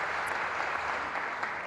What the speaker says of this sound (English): I think we need a round of applause for you